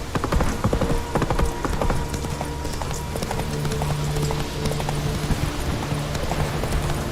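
A horse's hooves clip-clop steadily across ground in the video game The Witcher 3: Wild Hunt, a close, continuous trotting rhythm layered over a low tonal background.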